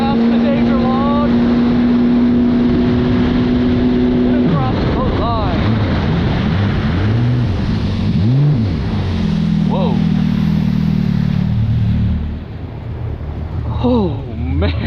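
An RC boat, a JSB Intersceptasaurus Rex fitted with Worx sponsons, runs on water. Its electric motor whines loudly, the pitch swooping up and down as it speeds and turns, with steady wind rumble and someone talking over it.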